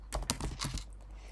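Keys clatter on a computer keyboard as text is typed into an image editor, a quick burst of close, crisp clicks for about a second with no talking.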